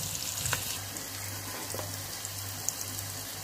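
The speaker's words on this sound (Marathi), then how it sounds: "आपल्याला छान परतून घ्यायचे आहे, याला चांगलं परतू द्यायचं आहे" Chilies sautéing in a pan for an instant masala chili dish, a soft steady sizzle and frying crackle with occasional light stirring clicks, close and quiet with no talk.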